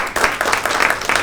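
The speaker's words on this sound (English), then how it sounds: "Give the prosecutor a round of applause." An audience at a neighborhood watch meeting claps for the prosecutor, a dense burst of applause from a room of people, steady and fairly close throughout.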